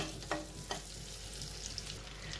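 Spring onion sautéing in butter for a mustard sauce pasta, a steady soft sizzle with a couple of brief stirring scrapes near the start, close and fairly quiet, with no voices.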